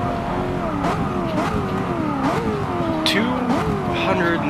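A Chevrolet Corvette engine screams near top speed in the Forza Motorsport 6 racing game, a loud sustained high-revving drone with rising and falling pitch sweeps as gears and throttle shift, while someone talks over it.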